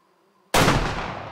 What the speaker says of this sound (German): der liegt natürlich im Knall mit dem Gewehr